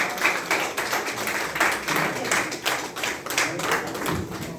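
An audience applauds at the launch of a multilingual international mime journal, a steady patter of many hands clapping together at moderate loudness throughout.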